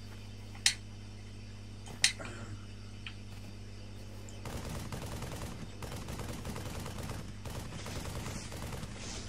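Gunfire from a weapon in a Bungie video game: two sharp, separated shots early on, then a sustained stretch of rapid, steady automatic fire that fills the rest of the clip at moderate loudness.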